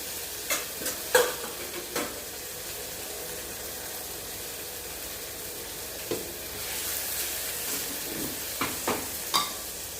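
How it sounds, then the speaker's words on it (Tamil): Onion, green chili and capsicum sauté in a pan for spicy paneer curry, a steady low sizzle broken by scattered spatula scrapes and taps, with louder stirring bursts near the start and end. "அதோட வெங்காயம் பச்சை மிளகாய் கேப்சிகம் சேர்த்துக்கலாம் சேர்ந்து வதங்கட்டும்"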